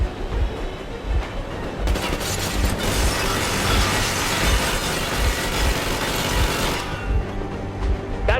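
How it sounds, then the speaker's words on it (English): A train engine in the video game Metro Exodus roars with a steady rumbling clatter, a loud dense burst of rattling mechanical noise rising in the middle and then dropping back to the running drone. "Stop the engine immediately and come out with your hands above your head."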